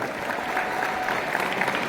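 Loud, sustained applause from a crowd at a school alumni reunion, many hands clapping at once in an even, unbroken roar.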